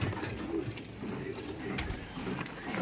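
Giribaz pigeons coo in soft, low, rolling murmurs close by, a steady gentle burble with faint background noise.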